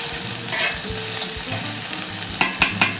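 Onion sizzling as it fries in a cauldron (kazan), a steady close crackle and hiss, with a few sharp scraping stirs near the end.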